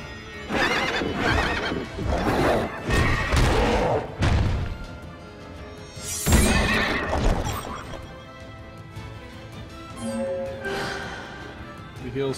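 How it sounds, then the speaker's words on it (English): Spirit horses in the fantasy role-playing game Child of Light, loud neighing and whinnying with clip-clop hooves and booming battle effects, dense and continuous, alone without talk. "And he's got a couple spirit horses with him."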